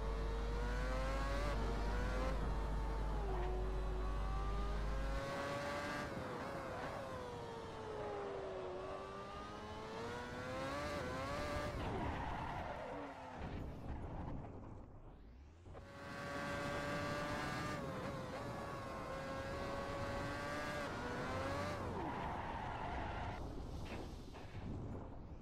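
A race car in the Assetto Corsa or Project CARS racing sim runs off the tarmac and loses traction. Its loud, close engine whine climbs and falls in pitch as the revs surge, dips briefly midway, then roars back, with no talking.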